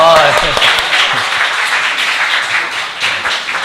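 Sustained applause from a church congregation at a Sunday service, steady clapping throughout, fairly loud and close.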